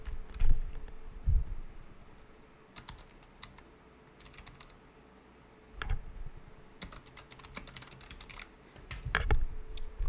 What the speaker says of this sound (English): Sorry, typing one-handed.